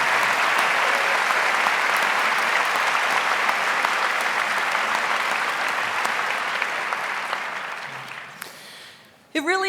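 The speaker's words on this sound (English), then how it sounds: "Let's give them a round of applause too." Sustained applause from a commencement audience as faculty stand to be honored, a dense, steady wash of clapping filling nearly ten seconds before tapering off abruptly at the end, with a voice faintly audible through it.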